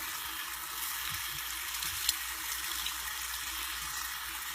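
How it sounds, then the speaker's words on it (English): Running water rinses thick soap lather from hands at a sink, a steady, soft, hissing splash held at an even level throughout, with one small knock partway through. "So I'm going to rinse it off."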